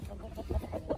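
Silkie hens leading their chicks to forage make soft, repeated clucks in a quick, uneven rhythm, fairly close but at a low level, with no talking.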